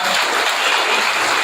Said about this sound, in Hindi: और एक बार यादव जी के लिए जोरदार ताली बजाइए